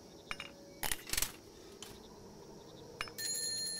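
A doorbell rings in a horror video game. Several clinking, metallic taps come first, then a bright, sustained electronic chime near the end, all alone with no talk.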